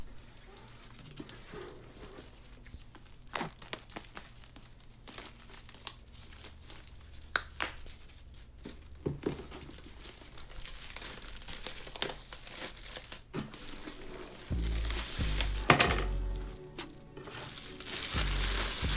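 Close, crisp paper crinkling and rustling goes on steadily while unboxing an M1 MacBook Pro, with sharper crackles scattered throughout and louder handling toward the end.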